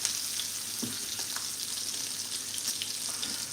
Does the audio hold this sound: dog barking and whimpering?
no